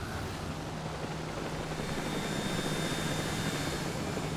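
A VTOL aircraft in the anime Symphogear G gives off a steady, loud engine roar and hum, constant and unbroken, with no voices.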